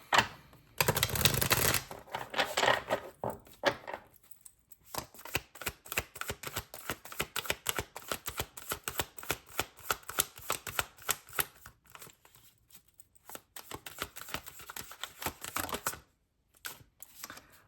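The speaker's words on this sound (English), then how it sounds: "All right, one more shuffle" Tarot cards are shuffled by hand for a pick-a-card reading, giving a long, quiet run of rapid papery clicks and riffles, with a denser burst near the start and a brief pause near the end.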